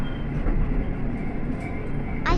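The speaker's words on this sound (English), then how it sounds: "We will soon pass the second railroad crossing on the Nishikigawa Clearstream Line." A train on the Nishikigawa Clearstream Line rumbling along as it nears a railroad crossing, a steady loud low rolling drone heard from on board with a brief hiss rising at the end.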